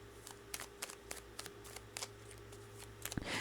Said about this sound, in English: I'm going to split the cards.